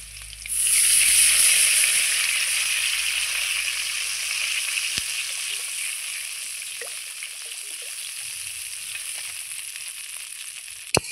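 Water hits hot oil holding nigella seeds and green chillies, bursting into a loud, close sizzle that settles into a steady crackling hiss, cooking for a Bengali eggplant and hilsa curry.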